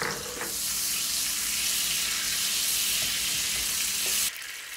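Olive oil and butter sizzle steadily in a hot pan for a beef kaldereta, a dense, even hiss that holds for several seconds before cutting off abruptly near the end.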